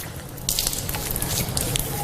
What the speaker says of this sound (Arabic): هكذا أخذت الماء بيدي ثم غسلت وجهي